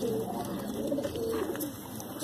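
Mangalagiri pigeons coo in low, continuous murmuring calls over steady background noise, close and moderately loud, without speech.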